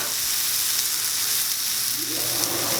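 Beef sears in a hot pan with a steady, dense sizzle that holds loud and close throughout, with no voices over it.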